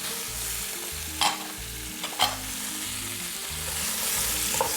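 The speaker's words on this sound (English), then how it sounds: "Stir these guys up a little bit, mix them in." Chopped celery, onion and carrots stirred in a hot pan for roast beef gravy, a continuous loud sizzle with a few sharp scrapes and knocks of the utensil against the pan.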